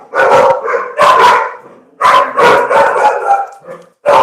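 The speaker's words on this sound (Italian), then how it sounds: "I cani abbaiano." Dogs barking loudly and close, several bursts of barks in quick groups with short pauses between them.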